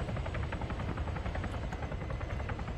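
Military helicopters in the Arma combat game fly steadily overhead, their dense rotor thump and engine roar filling the scene as one loud, continuous wash with no voices.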